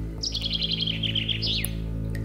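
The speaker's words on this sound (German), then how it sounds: "Es tönt wie ein Vogel, aber das kann doch nicht sein." A small bird chirps in a rapid run of high, thin tweets, close and clear over a steady low hum, followed by a sharp upward call and a few faint clicks.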